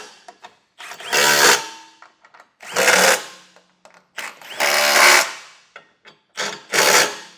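A power tool tightens the bolts of a Curt trailer hitch receiver being fitted to a 2025 Subaru Ascent, running in four loud, close bursts of a second or so each, with short pauses between them.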